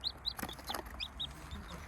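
A small chick peeps in a string of short, high, quick calls, about eight or nine chirps in under two seconds, close and fairly soft against a quiet background.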